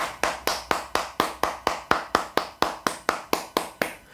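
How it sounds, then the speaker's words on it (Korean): Church congregation claps in unison at a Sunday worship service, sharp synchronized claps in a steady even rhythm, about four per second, resonant in the room. "우리 하나님께 감사와 영광의 박수를 올려드리겠습니다"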